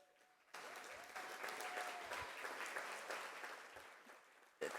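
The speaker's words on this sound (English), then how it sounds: "we'd like to give y'all a round of applause" Audience at a San Antonio regional education forum breaks into sustained applause for committee volunteers and staff, starting abruptly after a quiet moment and holding steady, fairly distant in a large room.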